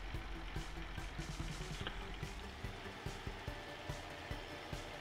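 Tractor engine in Farming Simulator 19 running with the fertilizer sprayer switched on, a steady, fairly quiet low drone with a faint rhythmic pulse and no voices.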